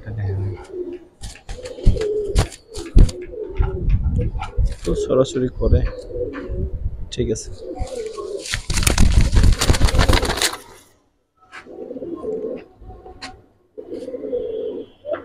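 Silver Giribaz pigeons of a fighter line coo in a loft, their low murmuring rolling on throughout under steady conversation and handling noise, with one louder rustling burst midway.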